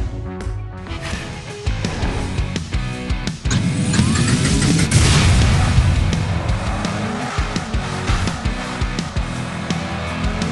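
A launched toy car in the Hot Wheels Unlimited video game skids and races with game engine and tire squeal effects, loud and steady over a busy backdrop, rising into a sustained swell midway with no talk.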